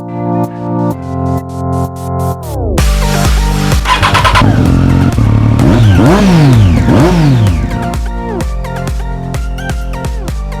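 A 2015 Harley-Davidson Fat Bob with the 103 engine blips its throttle in a string of short, loud revs, then holds a sustained roaring run that rises and falls before choppy revs return; no talk.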